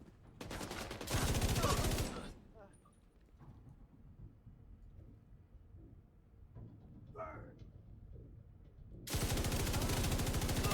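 An LMG machine gun fires in The Division 2 in two loud, sustained automatic bursts, one at the start and one at the end, separated by quieter gameplay with scattered distant shots.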